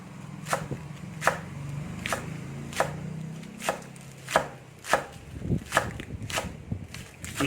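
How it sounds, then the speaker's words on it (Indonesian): Spring onions are chopped with a knife on a board in about a dozen crisp, evenly loud strikes at an irregular, unhurried pace over a quiet background. "Sekarang daun bawangnya ini kita potong-potong."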